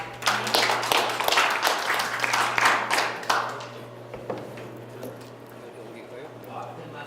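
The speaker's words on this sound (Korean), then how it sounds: "다시 한번 큰 박수로 양대진 교수님을 모시도록 하겠습니다." Audience at a lecture event giving a lecturer hearty applause, loud clapping for about three seconds that then fades away, with speech starting afterward.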